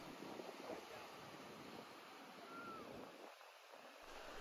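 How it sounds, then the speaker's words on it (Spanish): Strong ocean waves wash steadily onto a Punta Cana beach, a continuous broad roar of surf mixed with wind buffeting the microphone, with no voices. "la playa tiene olas fuertes"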